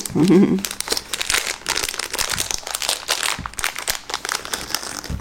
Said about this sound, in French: que j'essaye d'ouvrir le sachet